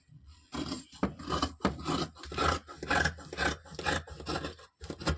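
Scissors cut through blouse fabric in a series of close, rasping snips, roughly eight or nine rhythmic strokes with short pauses between them.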